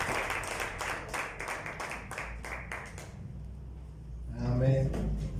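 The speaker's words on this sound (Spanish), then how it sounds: "Denle un aplauso fuerte mientras él pasa." A church congregation claps loudly for a few seconds, a dense burst of hand claps that thins and fades, after which a voice speaks near the microphone.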